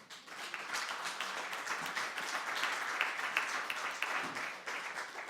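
A church congregation applauds the Lord, with steady, dense clapping that carries evenly throughout at moderate loudness.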